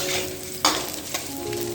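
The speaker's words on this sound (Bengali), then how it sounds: "আলুটা ভাজা হচ্ছে, আর এখানে পটল ভাজা হচ্ছে সাদা তেলে।" Potatoes and pointed gourd fry in white cooking oil, giving a steady close sizzle with a couple of brief scraping stirs partway through; no one speaks.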